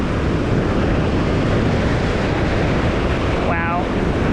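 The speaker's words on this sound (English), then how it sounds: "It's super windy today." Strong wind roars steadily against the microphone over Caribbean Sea surf breaking on a beach in Cartagena, Colombia, a loud continuous rush with no pause throughout.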